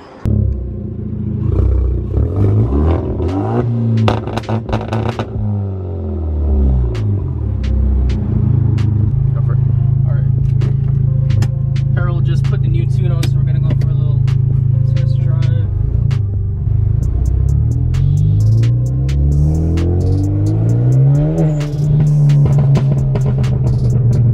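A tuned Hyundai Genesis Coupe 2.0T engine running loud and close, rumbling and revving in swells with crackling exhaust pops scattered through, while people talk over it.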